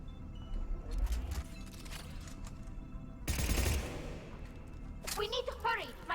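Submachine gun fire in the sci-fi shooter Mass Effect 3: dense bursts of rapid shots crackle through the scene, with a louder close burst midway, under steady battle noise and talk from players.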